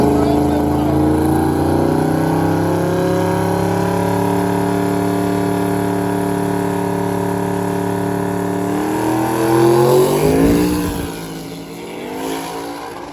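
A turbocharged Camaro called OG Snot Rocket and a Triumph Spitfire launch side by side in a drag race at Sick Week, engines roaring loudly and steadily before fading away, with the harsh whine receding near the end.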